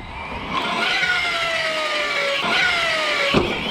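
Arrma Outcast RC car at its first run, accelerating hard into a wheelie with a rising whiny electric motor pitch that sweeps upward twice, fairly loud and near.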